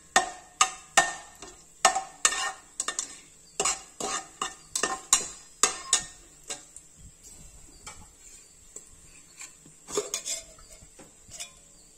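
Whole cinnamon, cloves and cardamom frying in oil in a pot, dominated by sharp metallic clinks and taps of a spoon against the vessel in quick bursts, thinning out later, with a faint sizzle beneath.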